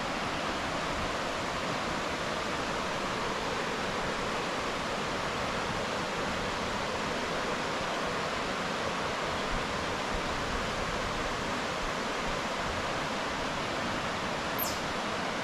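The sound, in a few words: rushing river water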